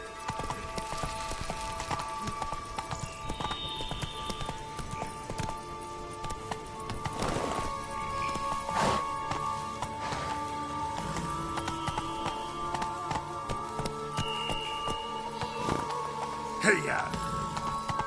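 Roach, a horse in a PS4 video game, clip-clops along steadily at a run through a busy game soundscape, with occasional rain-like patter and short voiced calls over the hoofbeats.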